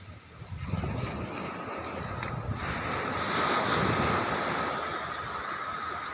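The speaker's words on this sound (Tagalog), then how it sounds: "Ganda ang dagat ngayon." Ocean waves at Bucana, Nasugbu, Batangas wash in a steady roar, swelling louder midway, with wind rushing over the microphone and no voices.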